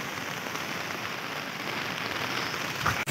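Heavy rain falls steadily outdoors, a dense continuous hiss of drops drumming on surfaces, loud and close with no voices.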